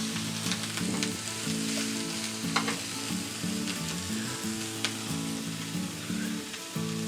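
Shredded cabbage for spring roll filling sizzles steadily in a hot pan, a loud continuous crackle and hiss with occasional stirring scrapes and clinks, no voices.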